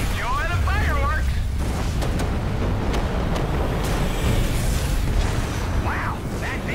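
Explosion in the Spacelords video game, a sustained loud rumbling blast with crackling bursts, while a voice talks over the start and a synthetic warbling tone sounds early and late.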